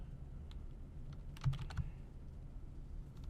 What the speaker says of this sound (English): I could put it in that way, but I can type it in.